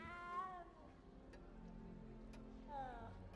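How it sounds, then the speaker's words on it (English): A cat in Hogwarts Legacy gives two clear, drawn-out meows, one at the start and one near the end, with a quiet gap between them. "You don't need to be frightened, little cat"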